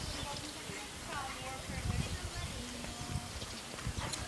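A purebred Lusitano stallion's hooves clip-clop in an uneven rhythm on a stud farm, fairly close, under a voice talking through the scene.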